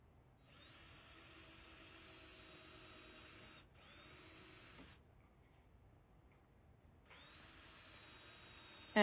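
A cordless drill with a 3/16 bit on a low, dying battery runs in three bursts, whining steadily for a few seconds each, with a short pause and then a longer silent gap before the final run.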